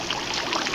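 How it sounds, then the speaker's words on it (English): A soft, steady trickle of flowing water, close by and continuous, with a bright splashing texture and no voices. "I hear the water."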